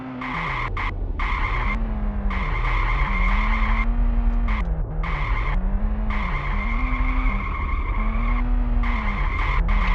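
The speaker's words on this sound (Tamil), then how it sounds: "ஓட்ட தெரியாம ஓட்டிட்டு இருக்கேன்." A car in a video game drives with a steady engine drone and long tire-squealing skids that rise and fall in pitch, loud and continuous with no talking.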